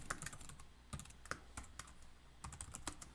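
Code is typed on a computer keyboard, giving quiet, close clusters of crisp key clicks with short gaps between bursts and no voices.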